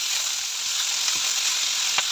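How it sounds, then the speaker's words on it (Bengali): Fried prawns sizzling in a pan as Malabar spinach goes in, a continuous close crackling hiss with a couple of short stirring scrapes. "এগুলো ভাজা ভাজা হয়ে গেছে। আমি এখন পুঁই শাকগুলোও দিয়ে দিচ্ছি।"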